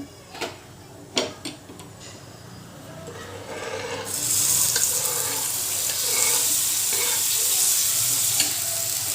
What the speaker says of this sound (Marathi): एक मध्यम आकारचा जो टमाटर आहे तो बारीक चिरून त्या तेलात मस्त परतून घ्यायचा आहे